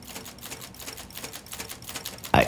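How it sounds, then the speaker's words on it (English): Weaving looms clacking away in a rapid, regular train of sharp wooden clicks, fairly close, ending with one louder knock. "the sounds of those looms, clacking away."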